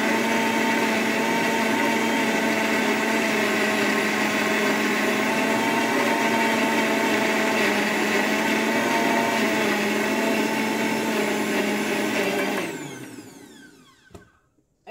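An electric grinder whirs steadily as it grinds dried herbs into a paste for a herbal remedy, a loud, continuous motor drone that holds for about twelve seconds before spinning down and stopping.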